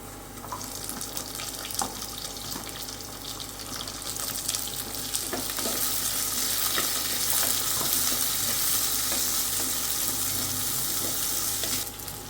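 Onions fry with dried red chillies in a pan, making a steady, hissing sizzle that swells in the middle, with scattered small stirring clicks, heard fairly close.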